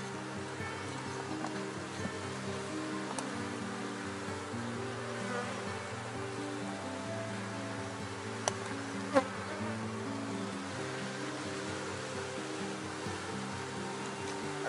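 A honeybee swarm buzzes steadily at the hive, a dense, layered, continuous drone of many wings close by, with a couple of faint knocks and no talking.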